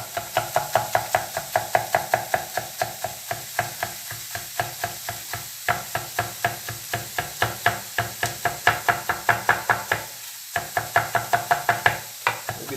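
A knife chops red capsicum pepper on a board in a steady, quick rhythm of sharp knocks that continues close and clear for the whole stretch, with no talking.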